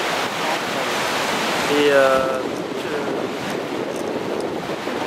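Ocean surf rolling onto the beach at Essaouira, Morocco, a steady broad wash of breaking waves with wind buffeting the microphone and a short voice rising briefly in the middle.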